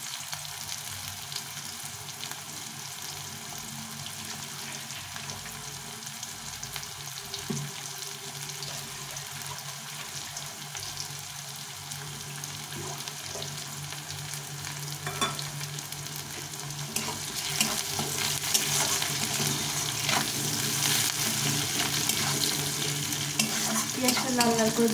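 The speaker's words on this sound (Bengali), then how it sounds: "পেঁয়াজটা লাল লাল করে ভেজে নিয়েছি।" Onions fry in a pan until reddish-brown, giving a steady, close sizzle with occasional stirring scrapes that grow a little louder toward the end, with no talking.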